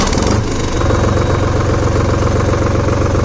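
Engine of a Sonalika Tiger DI 50 4WD tractor idling steadily, a loud, close, low diesel throb with an even rhythm throughout and no voices.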